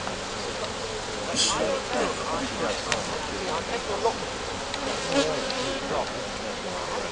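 A dense, steady buzzing of many honey bees at an open hive with brood frames fills the air throughout, with people talking intermittently over the swarm's hum.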